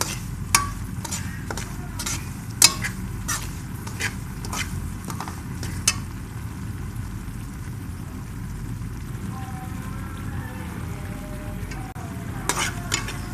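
Semolina roasting in ghee in a pan while being stirred, a soft continuous sizzle under repeated sharp scraping strokes of a spoon, close up, the strokes slowing and thinning out toward the end.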